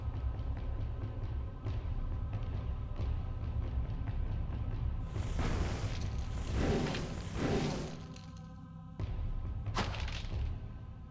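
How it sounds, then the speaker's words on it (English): A spell explosion bursts in the video game Diablo 1, a loud whooshing blast of about three seconds over a steady droning game ambience, with a sharp crack after it and no speech. "See, I didn't get hit by that explosion"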